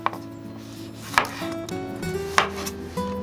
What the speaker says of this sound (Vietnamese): Mình cắt nhỏ tỏi ớt và trộn vào ăn kèm cho thêm hấp dẫn nè.